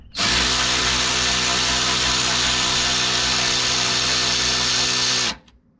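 A T30 Torx power driver spins out long bolts from a Jeep JKU tailgate, giving a loud, steady, close whine that runs unbroken for about five seconds before cutting off abruptly.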